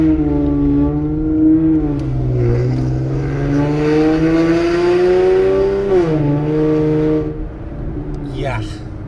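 Exhaust drone from a 2013 Infiniti G37 sedan's VQ engine with test pipes and a 3-inch custom exhaust, a loud, steady trombone-like hum held near 3,000 RPM that swells and dips slightly before easing off near the end.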